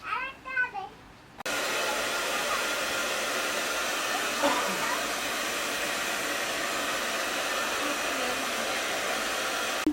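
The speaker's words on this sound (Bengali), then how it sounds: "আজকে আমরা ব্লো ড্রায়ার সেট করবো" A handheld hair blow dryer runs steadily at close range after a few seconds of a voice, its broad hiss and motor whine holding constant during a butterfly haircut styling.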